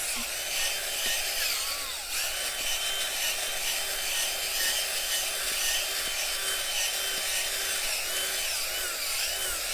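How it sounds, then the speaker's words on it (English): A handheld auger turns and churns soil in a planting hole for a lilac and Sugar Shack button bush, giving a steady continuous gritty rubbing and scraping outdoors with no speech. "And then I like to get my auger and just give this a quick mix."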